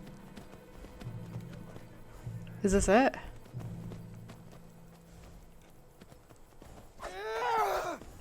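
A horse galloping in the Skyrim video game, its hooves clip-clopping at a steady pace under the rider's voice, with a short neigh partway through and another whinny near the end.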